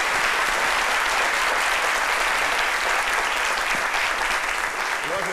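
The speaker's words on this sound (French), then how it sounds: "merci de l'applaudir" Steady studio audience applause on a French midday TV show, a dense continuous wash of clapping at moderate level with no break.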